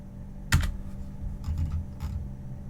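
Close computer keyboard typing: a few distinct key presses, one sharp tap and then short clusters of clicks over a low background hum.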